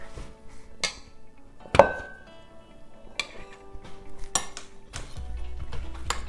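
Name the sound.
scraping a spoon clean with another spoon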